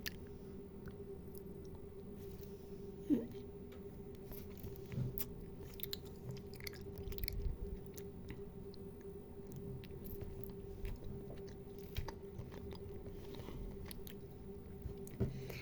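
Someone bites into a sticky mango-flavoured snack and chews it slowly, with soft, faint, close-up munching and occasional squishy clicks over a low background hum.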